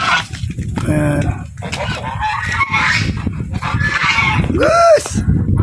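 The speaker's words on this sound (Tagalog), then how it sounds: "Yan po yung mga gansa." Several geese honk loudly and repeatedly on a rural farm, some calls near and strident, with chickens and faint voices mixed in the background.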